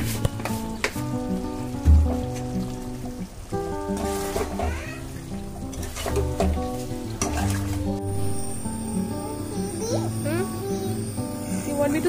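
Chicken cooks in a pan with tomato and salt being stirred in, loud sizzling and scraping strokes heard under background music and a voice, with clattering near the start.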